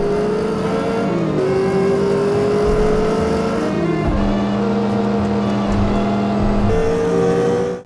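A sports car engine in the video game The Saboteur roars steadily at high revs, its pitch climbing through gears with brief dips at shifts, loud and close with no talking.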